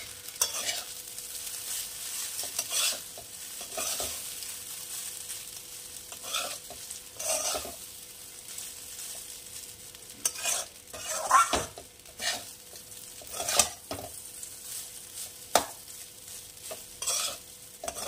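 Lemon vermicelli stirs and fries in a pan, with a soft sizzle and repeated scraping spoon strokes and light clinks of cookware in a quiet kitchen.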